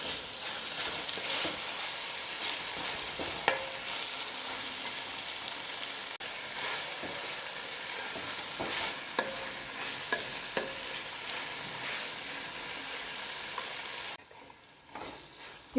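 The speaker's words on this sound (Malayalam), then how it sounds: "തക്കാളി ഇട്ടിട്ട് നല്ലവണ്ണം മൂപ്പിക്കുക." Tomato frying and being stirred in a pan, a steady soft sizzle broken by frequent scraping clicks of the spoon, close and continuous before cutting off near the end.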